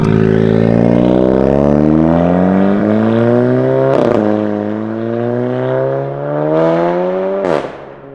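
A custom tuned Mk7.5 Golf R engine warms up with a loud droning exhaust, pitch wavering and swelling, punctuated by two sharp pops or blips, close and dominant throughout.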